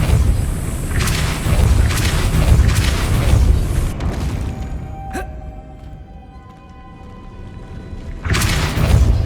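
Depulso force spell in the Hogwarts Legacy video game, heard as a loud booming blast with heavy low thumps, then a quieter ringing tail with a brief metallic ping, and another burst at the end.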